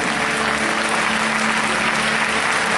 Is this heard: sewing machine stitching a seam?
no